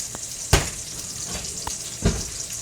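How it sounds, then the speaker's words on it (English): Three slices of cut-up bacon fry in a little olive oil in a pan. A steady close sizzle runs throughout, broken by a couple of brief clattering stirs. "a pan full of 3 slices of bacon cut up, frying up in a little bit of olive oil"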